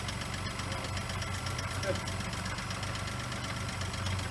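A Geo Metro engine runs at idle with a steady low rumble and faint ticking knock, close and continuous throughout, with people talking under it.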